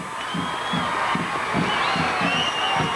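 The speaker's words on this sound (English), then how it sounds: "the crowd below us comes to their feet to cheer on the Wildcats" A high school football crowd at Euclid versus Mayfield in 1993 cheers for the Wildcats late in the game, a distant roar of voices and whoops with a rhythmic chant-like pulse underneath.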